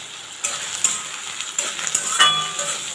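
Potatoes fry in a pan seasoned with salt and a pinch of turmeric, giving a steady close sizzle with a few soft stirring scrapes and clicks throughout, no voices.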